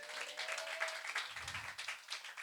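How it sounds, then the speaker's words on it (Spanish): Church congregation applauds, a short burst of scattered hand claps, fairly faint and distant, with a low thump partway through. "¿Cuántos le pueden dar un aplauso al Señor?"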